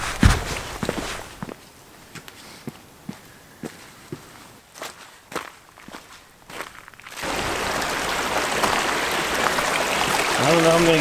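Footsteps crunch at a steady pace along a backpacking trail at Dolly Sods, then give way to a broad, constant rush of a stream of water flowing across the path, close and loud.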